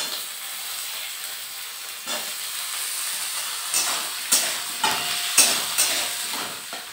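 Potatoes frying in a pan with already fried onion give a steady sizzling hiss, with several sharp scrapes and clanks of stirring growing more frequent toward the end.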